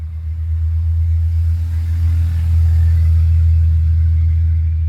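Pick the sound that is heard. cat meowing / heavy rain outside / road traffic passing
road traffic passing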